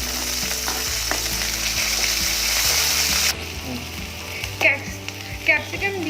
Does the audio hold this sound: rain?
no